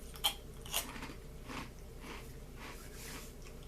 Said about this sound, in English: to get your hands on these and just have that nice little crunchy, nostalgic bite